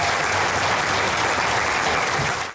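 Applause as casino and public officials break ground on the $85 million Horseshoe Casino gambling facility in Indiana; a continuous outdoor crowd of clapping, fairly loud and even, fading at the very end.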